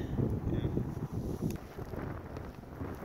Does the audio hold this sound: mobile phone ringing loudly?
no